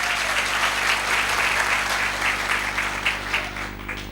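An audience gives a leader a hearty round of applause, with many hands clapping in a dense, steady roar that thins out and softens over the last second.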